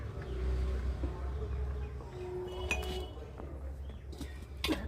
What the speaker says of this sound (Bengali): আর বাটিটাকে এখন আমি নিচে রাখবো।